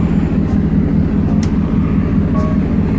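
Exhaust note of a 2014 Ford F-150 Raptor with a naturally aspirated 6.2L V8 running on gasoline and LPG, a loud, steady, deep idle rumble that is close and continuous throughout.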